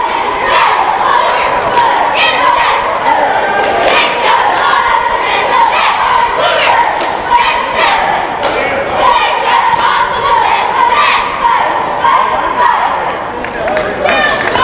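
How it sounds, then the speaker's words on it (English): Beekmantown high school cheerleaders chanting a cheer in a gym during a boys' basketball game, voices shouting in rhythm with stomps and claps over a loud, constant crowd din. "Here are the Beekmantown cheerleaders lined up for their cheer."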